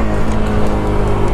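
A Yamaha R15 motorcycle engine runs steadily while being ridden, a continuous loud drone with a low rumble and rushing wind, with no pauses or speech.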